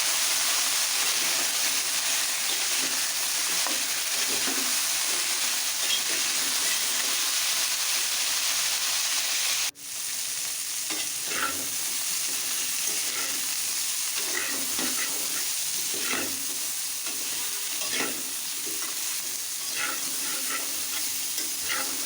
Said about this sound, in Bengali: আলু আর ফুলকপি একসঙ্গে ভেজে নেব।